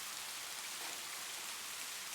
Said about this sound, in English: a rounded plunk, as each drop hit the saturated earth below, was like a bass note punctuating the higher-pitched patter of the rain itself